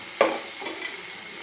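A bhopla (pumpkin) thalipith flatbread with finely chopped onion roasts in a pan, giving a soft steady sizzle with one brief louder scrape or stir near the start.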